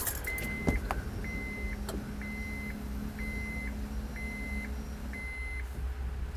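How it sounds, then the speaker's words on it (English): A Honda power antenna motor runs with a steady electric whir inside the car, accompanied by a repeating electronic beep that pulses at regular intervals throughout. "turn the radio on until you hear the motor fully extend"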